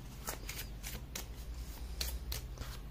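A deck of tarot cards is shuffled by hand close to the mic in quick, soft riffling bursts. The shuffling runs steadily for a few seconds over a quiet background.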